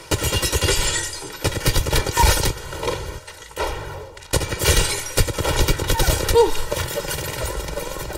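Gunfire rings out in Apex Legends, a weapon in single-fire mode sending shots in uneven bursts with short pauses between, loud and close, with some chaotic game noise around them.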